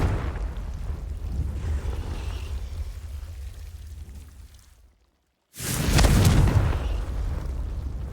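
A Confringo blasting spell explodes in the Hogwarts Legacy video game, a loud booming burst that follows a brief moment of silence and then rumbles on, after a stretch of busy game noise.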